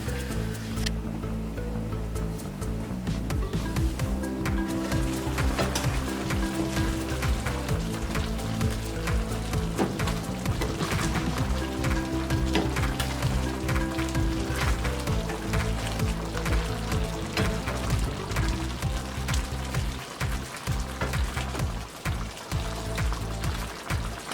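Sweet potatoes cook over medium heat in a covered pan, giving a steady, dense sizzle and bubbling hiss that carries on unbroken at a fairly low level.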